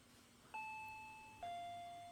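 A two-tone doorbell in the Higurashi When They Cry visual novel rings a clean high chime followed by a lower one, each note ringing out and fading, with no voices.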